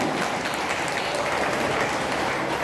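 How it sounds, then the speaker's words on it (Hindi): Steady dense clapping from a large audience at a devotional Ram-Sita storytelling event, loud and continuous with no voices over it. "आनंद से सभी तालियां बजाने लगते हैं"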